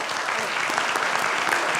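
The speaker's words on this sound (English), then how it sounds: "I think we owe them all a round of applause." Steady round of applause from a town meeting crowd in Carlisle, Massachusetts, a dense, even patter of many hands clapping throughout with no talking over it.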